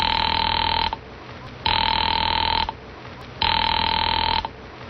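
Three long telephone ring tones repeat at an even pace, each followed by a short gap of quiet.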